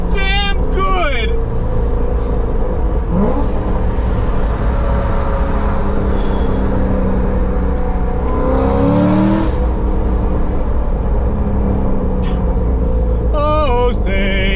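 A Chevrolet C6 Corvette Grand Sport engine revs hard from inside the car, its loud continuous drone rising and falling through gear changes, with people talking over it.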